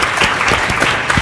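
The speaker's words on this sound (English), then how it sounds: "one more round of applause" Audience applause closing a panel discussion on water resources, a short burst of crowd clapping, fairly loud and continuous with a few sharper claps.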